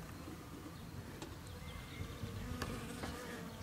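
A faint, steady buzzing of honeybees around a small captured swarm hums in the background, with a few individual bees droning closer now and then.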